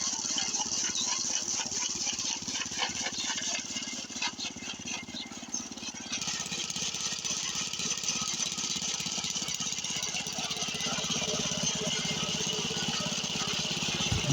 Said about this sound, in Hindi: ये देख सकते हो आप कैसे चारा लग रहा है मशीन से